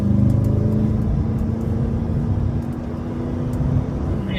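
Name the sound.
Corvette ZR1 engine accelerating on track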